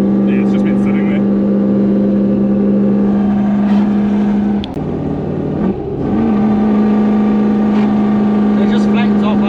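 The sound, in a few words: Toyota 1UZ V8 engine revving flat in a 4Runner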